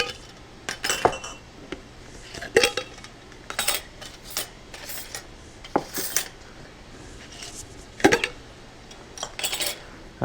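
Metal lids come off glass pint canning jars with a series of sharp clinks and clatters, irregular and close, several distinct knocks spread across the stretch with quiet rustling between.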